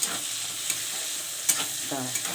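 Onions browning in a pan, a steady bright sizzle up close with a few soft stirring scrapes breaking through.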